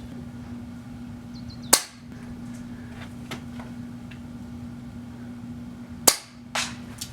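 Two sharp airsoft sniper rifle shots from a Nemesis Arms Vanquish, each a crisp snap spaced several seconds apart, with light clicks of handling between them and no talking.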